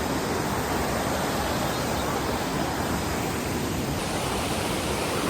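Kappimala Waterfalls in Kannur district, Kerala, a steady, dense roar of rushing, falling water that fills the whole stretch at constant loudness with no breaks or voices.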